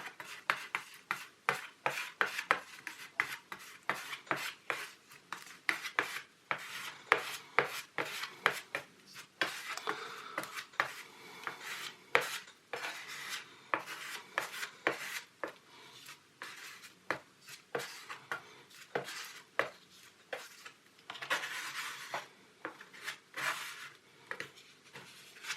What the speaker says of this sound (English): Now I just use an old plastic card to do my mixing and spreading.